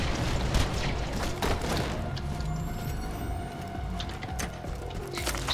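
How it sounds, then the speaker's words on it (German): Explosions and gunfire in the cooperative shooter game Borderlands 2: booming blasts and clattering shots over a busy, layered game soundscape, with sharp bursts recurring through the stretch. "Eine Explosion und Schuss ist super geil."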